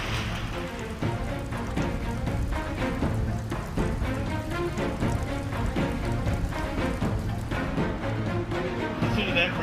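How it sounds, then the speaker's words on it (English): Heavy rain pounding down on a building, a dense, steady roar of drops on the roof and walls that holds at an even loudness throughout. "Listen to that rain."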